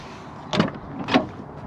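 A Peugeot 306 rear car door unlatches and swings open in two quick clunks, close by and fairly quiet.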